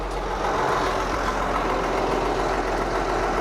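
A tractor-mounted Spearhead 560 Classic reach mower hedge cutter runs with a steady, loud, unbroken mechanical roar while working roadside verges. The noise stays close and constant throughout, with no talking.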